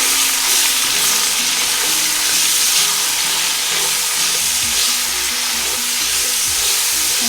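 Surati papadi beans, about half a kilo, being stirred into a hot frying pan for undhiyu, giving a loud steady sizzle with scraping stir strokes throughout and no talk.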